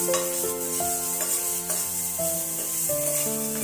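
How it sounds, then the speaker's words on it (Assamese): Onion and garlic with dried chilli fry in a pan with a constant sizzle, while a spoon stirs and scrapes through the mix. A steady tonal hum plays beneath the sizzle. "পিঁয়াজ নহৰুখিনি একেলগে দি দিছোঁ, দি ভালদৰে লৰাই দিছোঁ।"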